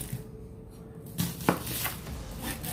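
A knife slices off the ends of an onion on a kitchen board, giving a couple of brief, close cutting knocks against quiet kitchen background noise.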